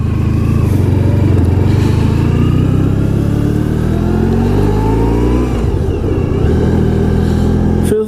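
A 1994 Honda ST1100 Pan European motorcycle on the road, its mid-range engine droning loud and continuous with rising and falling pitch as it accelerates, mixed with steady wind rush.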